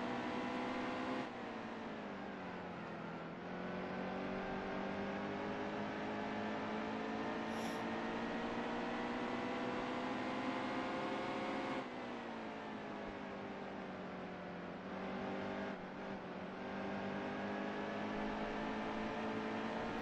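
Race car engines in NASCAR Heat 2 at Richmond, a steady droning whine that shifts pitch as the car accelerates and lifts through corners, continuous and fairly quiet with no talking.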